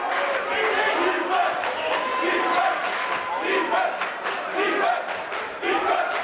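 Dense crowd noise from a packed high school basketball gym, Crimson Cliffs at Dixie, with steady chatter and shouting and sneaker squeaks and ball bounces throughout, loud and continuous around the action.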